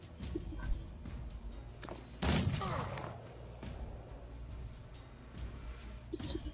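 Gunfire in the video game Mordheim City of the Damned: one loud, sharp blast partway through, set against a low rumbling game ambience.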